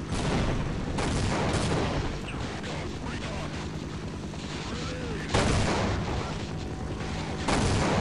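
Repeated heavy blasts from grenade explosions in the Half-Life game, thudding booms with broad rumble erupting over continuous gunfire-like noise, loud and close, with sharp bursts near the start, middle and end.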